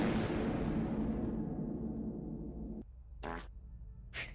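A video game fart sound blares long and buzzy, tailing off while game music plays a sustained tone, then two short farting bursts follow.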